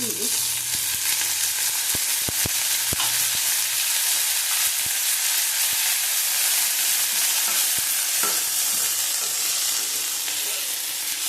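Neem leaves and eggplant frying in a little oil, a loud, steady sizzle and hiss throughout, broken by scattered sharp pops and crackles and occasional stirring sounds, up close with no talking.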